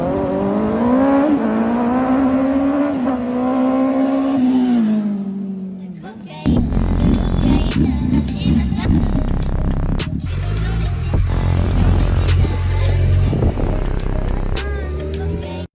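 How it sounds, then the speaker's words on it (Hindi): A superbike ridden for the first time, its engine revving and rising in pitch, then dropping away before a louder, rougher roar returns and holds, with faint voices mixed in. "riding a super bike for the first time"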